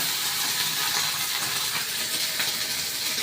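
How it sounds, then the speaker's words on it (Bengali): Soya chunks frying in oil in a wok, giving a dense, continuous crackling hiss close to the pan, steady and unbroken for a few seconds with no talking. "এত করে সব ভেজে নিচ্ছি।"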